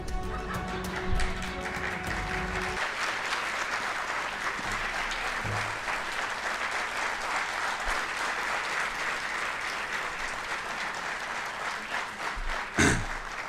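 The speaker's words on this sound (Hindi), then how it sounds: "बहुत बहुत धन्यवाद इतनी तालियों के लिए।" Audience applause fills a hall after a speaker's talk on media narrative and criticism, dense and steady for the full length, with a brief low thump near the end and no voices over it.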